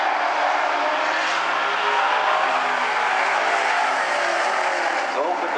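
Vintage modified race cars roar around the oval at South Sound Speedway during a heat race, a loud, continuous wall of engine noise with voices blending into the din.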